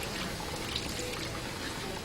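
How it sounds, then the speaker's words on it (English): Tap water runs steadily while hands are rinsed beneath it, a continuous close splashing hiss with no talking. "Rinse hands under running water"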